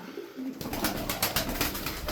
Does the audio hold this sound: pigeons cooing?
yes